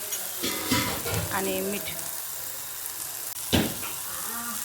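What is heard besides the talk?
nalge frying in a pan with turmeric and salt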